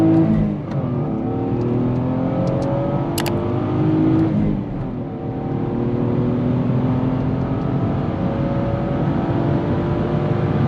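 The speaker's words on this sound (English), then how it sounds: "Just give it some revs." Bone-stock Lexus IS300 with a 2JZ-GE inline-six and 240,000 miles, revved while stationary: the engine climbs, dips briefly mid-way, then holds a loud, steady high rev with a smooth mechanical whir.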